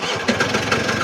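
Small Motobecane X7 moped engine starting up close, a rough, pulsing putter with uneven beats over about a second.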